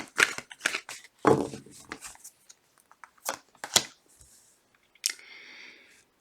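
Tarot cards are shuffled in short riffled bursts with clicky flicks between pauses, close and fairly quiet, ending in a brief whirring riffle.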